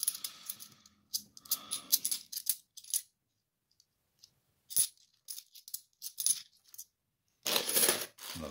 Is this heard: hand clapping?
no